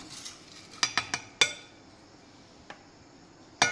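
Ground masala scraped from a grinder jar into a bowl, a handful of sharp metal spoon clinks and taps in quick succession, then a pause and a couple more near the end, close and otherwise quiet.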